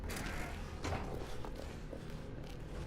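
A red door in The Stanley Parable swings open with a drawn-out mechanical creak, steady and close, lasting a few seconds with faint groaning hinge texture.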